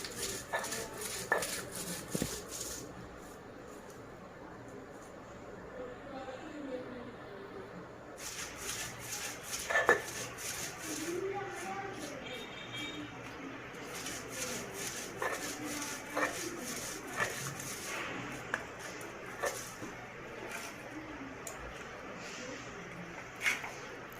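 Coriander leaves being ground on a shil-pata stone, the grinding stone scraping and rubbing in steady repeated strokes, close by and moderately loud, with short pauses between bursts of grinding and no talk.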